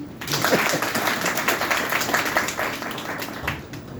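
Audience applause at a literary talk in Chattogram, a steady patter of many hands clapping at moderate distance, filling the whole span with no voices over it.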